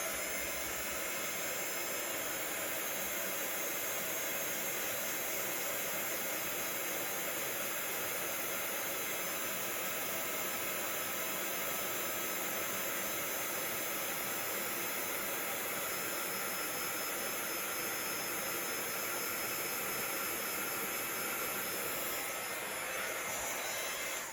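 Heat tool blowing hot air to melt copper embossing powder in a craft project, a steady, loud whirring rush that runs continuously the whole time without pause.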